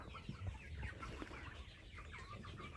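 Several roosters, one of them an Araucana, squabble in a flock, giving bursts of clucking and agitated squawks. The birds sound close over a busy farmyard background, with no speech.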